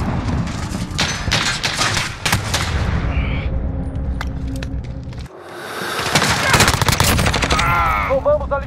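Rapid automatic gunfire from an allied armored turret in Modern Warfare, loud dense bursts with booming impacts that drop out briefly mid-way and then return, while game announcer voices call out.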